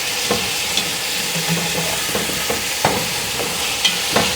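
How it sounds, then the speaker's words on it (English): A spoon stirs a pot of Thanksgiving food containing big ham hocks, with a constant sizzle underneath and a series of distinct scraping knocks spaced through the few seconds, no talking. "Let me stir that around."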